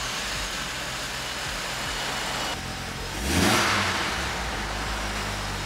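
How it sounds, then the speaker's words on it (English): An Audi RS2 engine fires up and revs once in a showroom in Cork City, the roar swelling then settling into a steady idle rumble. "Wayne's just about to start the RS2."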